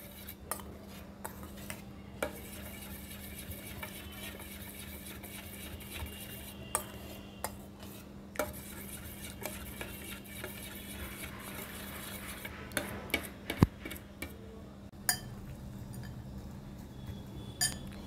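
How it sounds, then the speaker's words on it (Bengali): Chinese cucumber salad ingredients being mixed in a bowl, with quiet, irregular scraping and light clinks of a utensil against the dish at close range. "সব একসাথে আমি মিশিয়ে নেব।"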